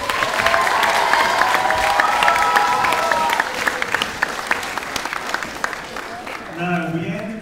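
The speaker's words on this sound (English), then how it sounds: "I really think everybody deserves a round of applause for the confidence that they have" An audience applauds the performers at a show, a thick burst of clapping that stays full for a few seconds, then thins into scattered claps before a voice begins speaking near the end.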